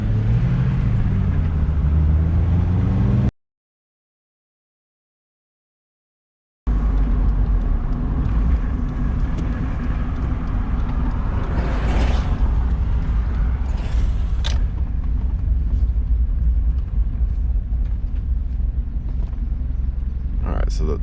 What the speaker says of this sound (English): the idle's starting to get pretty rough now